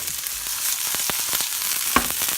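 Cuttlefish frying in hot olive oil in a pan, a steady close hiss and sizzle with faint crackles throughout and one brief clink near the end.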